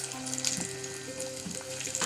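Cabbage bhaji fritters fry in hot oil in a wok over a low flame, with a steady close sizzle and bubbling plus faint intermittent tonal hums beneath it.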